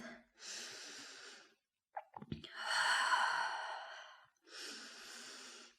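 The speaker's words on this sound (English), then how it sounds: "Take a few steady breaths here." Slow, steady breaths after a vinyasa yoga practice, close and clear: a long exhale, a sharp sniff and intake, then two more long breaths in an even rhythm.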